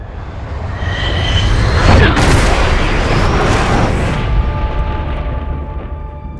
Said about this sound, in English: here is the trailer for Top Gun Maverick